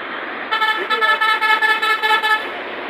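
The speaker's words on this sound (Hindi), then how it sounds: "ये गन्ने का भरा हुआ ट्रक जा रहा है।" Traffic on a bypass road where a truck loaded with sugarcane passes, a steady road rumble overlaid by a long series of repeated horn toots lasting about two seconds.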